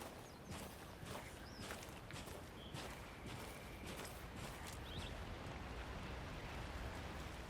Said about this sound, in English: Damn. Should have brought an umbrella. I like the rain.